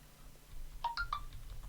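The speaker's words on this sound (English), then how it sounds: "That's my phone bleeping." A mobile phone gives three short rising electronic bleeps in quick succession, close by and fairly quiet over a low hum.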